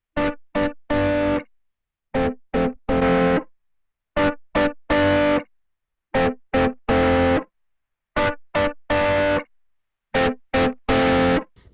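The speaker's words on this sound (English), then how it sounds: "The modern, it sounds like a very digital type of distortion" Electric guitar played through an Arturia DistOp Amp 21 plugin on its modern setting, harsh digital distortion in short repeated chord stabs and bursts separated by clean silences, loud and dry.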